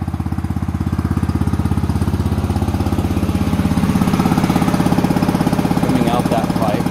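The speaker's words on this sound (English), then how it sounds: "So that's the noisiest out here on this side because the exhaust comes through the wall." A 24-volt Predator DC generator engine runs steadily at about 1800 RPM, its exhaust venting through a wall, giving a loud, close, rapid chugging pulse with a slight rise in intensity midway.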